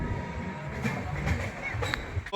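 A passenger train pulls out of Bardhaman Junction on the Howrah line, its steady low rumble and rolling wheel noise running continuously, with faint bright squeals and clanks rising now and then, close and moderately loud.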